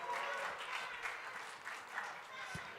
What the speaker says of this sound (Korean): 다시 한 박수로